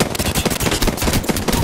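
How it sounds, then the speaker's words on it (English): Rapid automatic gunfire in the battle royale game Apex Legends, a dense, loud, continuous burst of shots with no talking. "Who's shooting at me?"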